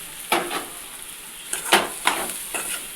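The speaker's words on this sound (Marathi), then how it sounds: "त्याच्यामध्ये ते फ्राय केलेले कारले टाकून देऊ" Fried bitter gourd is tossed into a hot pan with salt and stirred, giving several short scraping, sizzling strokes at an irregular rhythm, close and clear, with no talk.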